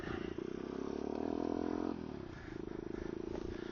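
A motorcycle rides on a chilly morning with a cold engine, its steady loud engine rumble rising into a revving pull, then settling back to a lower throb.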